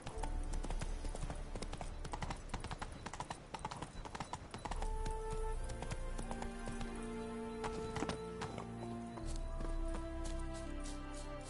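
In The Witcher 3, the horse Roach gallops with a fast, steady clip-clop of hooves. A neigh and game music play in the background.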